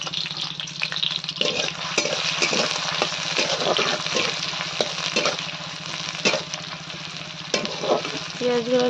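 Chopped onions sizzle steadily in hot oil in a pan, with a continuous close frying hiss and repeated scraping stirs throughout, no voices.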